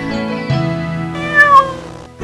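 A cartoon cat in an animated children's moral story meows in two drawn-out, clear calls, the second rising louder in the middle, heard alone with no talking.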